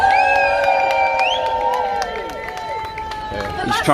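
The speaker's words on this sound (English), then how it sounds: "Let's give it a round of big cheer" Outdoor crowd at a Leeds anti-racist protest demonstration cheering and shouting together, a loud sustained roar of raised voices with some rising calls throughout.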